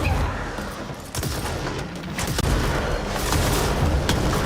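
Repeated explosive blasts from the Charge gun in the game Control, dense booming impacts layered into a continuous rumbling barrage, loud and close.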